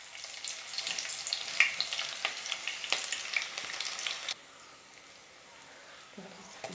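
Mustard seeds spluttering in hot oil for a Kerala fish curry, a close crackling sizzle with sharp pops for about four seconds, then dropping to a faint low hiss.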